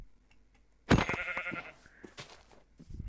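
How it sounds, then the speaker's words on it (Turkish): Sheep bleating in the Minecraft video game, a single loud bleat that starts abruptly and fades into fainter game sounds, with no talking over it. "Koyun buldum."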